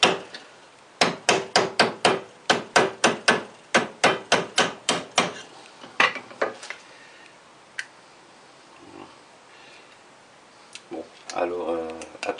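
Sheet metal being hammered into a cone for the bell of a scale-model Walton hydraulic ram: a fast, steady run of about twenty sharp, loud metallic strikes, then a few scattered blows and quieter handling noise.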